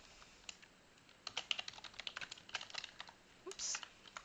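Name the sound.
typing on a computer keyboard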